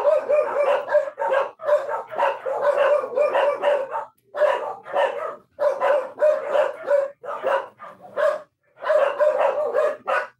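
Several dogs bark continuously in a noisy home neighbourhood, loud, close yips and barks in rapid overlapping bursts with only brief pauses throughout.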